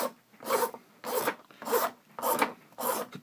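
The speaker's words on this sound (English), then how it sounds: "I'm going to use a slightly larger file here" A hand file rasping back and forth on a 3D-printed plastic prosthetic finger, five steady, rhythmic scraping strokes close up, with no voices.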